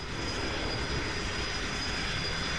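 Simulated light aircraft engine in X-Plane 11 after the brakes are released, a steady, loud, continuous drone with broadband roar and a faint high whine, holding level throughout with no talk.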